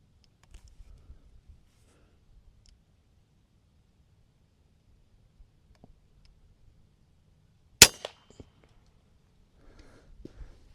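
An FX M3 custom compact air rifle fires at a squirrel, a single sharp near crack standing out in an otherwise very quiet outdoor setting, followed by a brief thud and faint rustling.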